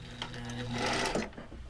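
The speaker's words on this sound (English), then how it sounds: "Next, stitching of our flower leaf." A sewing machine stitches a flower leaf in a steady mechanical whir lasting under two seconds, fairly close and moderately loud, with no talking.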